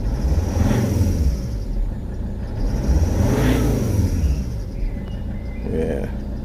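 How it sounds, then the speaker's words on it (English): A Volvo C70 with a D5 diesel engine is revved twice in quick succession, each rise and fall clear and fairly close. The engine then settles back to a lower idle. "rev it up a bit."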